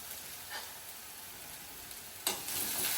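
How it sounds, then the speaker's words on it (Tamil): Ginger and garlic sauté in a pan with a faint background hiss that swells suddenly into a louder, steady sizzle partway through. "இஞ்சி பூண்டு போட்டு நல்லா வதக்கிக்கலாம்."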